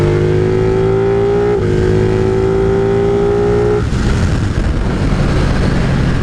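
A Ducati 959 Panigale motorcycle engine revs while being ridden, a steady loud drone with rising pitch that holds, then drops off into rougher wind and road noise toward the end.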